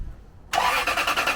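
A Lexus LX470's 2UZ-FE 4.7-liter V8 catches abruptly after a moment of near silence, then runs loud and steady close by with slight rhythmic pulsing, the AC on full cold.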